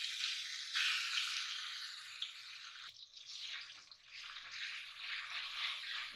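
Steady crackling sizzle of ground turmeric and ginger roasting in a hot pan, continuous and fairly loud, with a brief clunk partway through and no talking.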